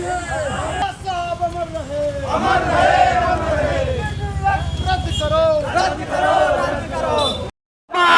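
A large crowd of protesters moving off from a sit-in protest site: loud, continuous shouting and chanting from many voices, close and dense throughout, with one brief cut near the end.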